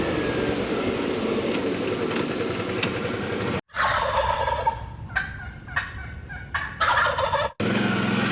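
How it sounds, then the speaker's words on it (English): Wild turkeys gobbling outdoors in Idaho, a run of rapid, warbling gobbles heard at moderate distance over steady rumbling background noise, with no talk. "Wild turkeys in Idaho."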